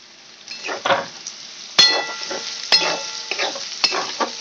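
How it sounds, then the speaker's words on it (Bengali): Vegetables and tomato frying for chowmein are stirred in a pan, with repeated scraping strokes and sharp metallic clinks over a soft sizzle, close and fairly loud, no voices. "বলতে বলতে আমার সবজি ভাজা হয়ে গেছে, এবার টমেটোটা দিয়ে দিচ্ছি।"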